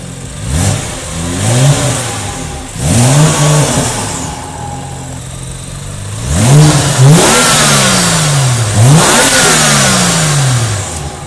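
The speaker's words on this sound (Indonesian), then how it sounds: "Sekarang saatnya kita start up, pengen denger suara mesin dan suara knalpot" A BMW M2 turbocharged inline-six engine, remapped, starts up close by, then revs hard several times in loud repeated surges, settling to a rough idle between them.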